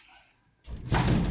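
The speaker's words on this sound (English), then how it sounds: "I'll close the door because we're actually not open yet." A shop door is shut with a sudden thud after a quiet moment, followed by a sustained rumbling rattle, close and fairly loud, with no talking.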